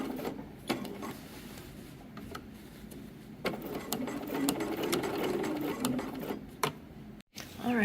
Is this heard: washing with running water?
no